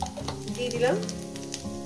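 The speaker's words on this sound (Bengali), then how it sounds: "কয়েক সেকেন্ড একটু ভেজে নেব জিরেটাকে।" Cumin seeds crackle and sizzle as they hit hot oil in a pan, a steady close frying hiss over about two seconds, with a brief spoken phrase at the start.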